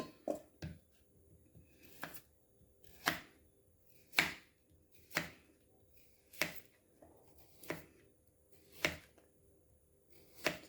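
A knife dices firm beetroot on a board, about ten evenly spaced crisp cuts, close up and fairly quiet.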